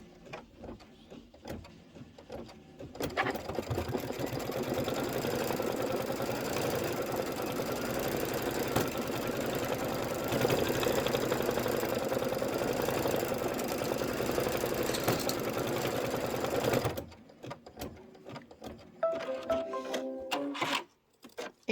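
Embroidery machine stitching a tack-down line for a Kimberbell rain boots design, a steady, close mechanical whir with rapid needle rhythm running continuously for about fourteen seconds before stopping, followed by faint handling noises.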